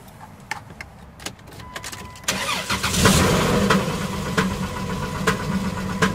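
A car engine that has developed a fault runs loudly, moving from intermittent knocks and clatter into a sustained rough, harsh roar with uneven knocking, close by and without talk.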